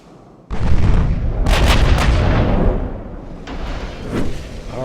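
Battleship main-gun turrets firing in the naval warfare game Ultimate Admiral: Dreadnoughts, a loud sudden boom that rolls into a long sustained rumble, with a second heavy report near the end.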